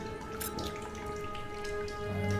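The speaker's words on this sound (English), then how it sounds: "Let's grab some water." Water being collected in the survival game The Solus Project, heard as soft repeated drips and trickling over a steady tonal game background, fairly quiet and with no talk.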